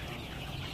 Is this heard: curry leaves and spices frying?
no